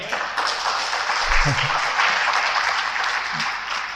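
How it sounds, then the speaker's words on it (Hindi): Audience clapping at a Hindi spiritual discourse on blood and organ donation, a steady wash of applause throughout with a low voice briefly rising underneath it. "तालियां मारिए।"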